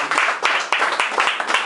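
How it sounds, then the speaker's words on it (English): Audience applause at an open mic night in Paris, a steady burst of clapping from the crowd lasting under two seconds with no voices over it. "let's give a big round of applause"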